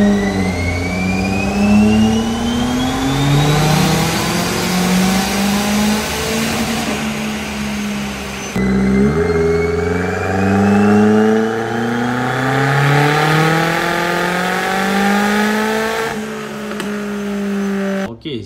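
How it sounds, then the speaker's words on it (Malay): Perodua Myvi with a loud exhaust on high boost: two long, close revving runs, each engine note climbing steadily through the gears, with a brief gearshift dip between them and no talking. "ni exhaust bising kita buat high boost"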